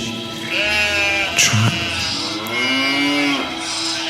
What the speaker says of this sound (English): Just ignore the sheep.